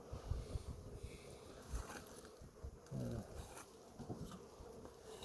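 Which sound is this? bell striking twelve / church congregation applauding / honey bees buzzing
honey bees buzzing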